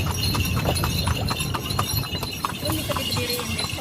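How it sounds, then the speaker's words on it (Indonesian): A horse-drawn delman carriage rolls along with brisk, regular hoof clip-clops on pavement, close and continuous, over a steady background rumble and faint voices. "Naik delman istimewa."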